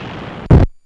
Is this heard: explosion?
yes